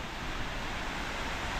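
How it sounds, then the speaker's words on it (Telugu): Constant broadband roar of Athirappilly Falls in a forest setting, a dense unbroken wash of falling water, loud and close with no voices. "ఇది వాటర్ ఫాల్."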